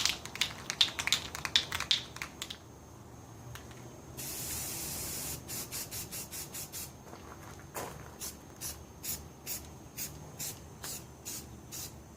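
A spray can of primer coats the wheels of a 1975 Vanguard Citicar, first in short bursts, then one long hiss, then a steady series of brief repeated sprays, loud and close.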